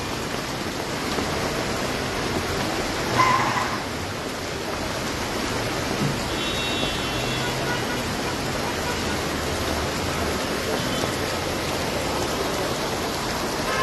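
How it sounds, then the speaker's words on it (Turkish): Hail falling steadily in Tosya, Turkey, a dense, even hiss and patter of ice striking surfaces that holds at constant intensity throughout, with no voices. "Dolu yağıyor sevgili izleyenler."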